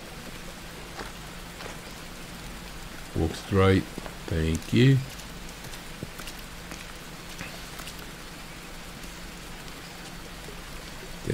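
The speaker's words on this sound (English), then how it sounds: "Rain, which is nice." Rain pours steadily in the survival video game Green Hell, a constant soft hiss of drops while someone speaks briefly over it midway.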